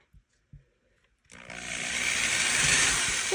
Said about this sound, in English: I'm going to take my drill and I'm going to drill a hole in the center of each one of these for the wick